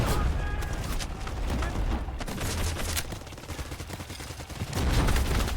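Rapid, crackling bursts of gunfire from a weapon in the video game Delta Force Hawk Ops come in dense repeated volleys, loud and steady throughout with no clear talk.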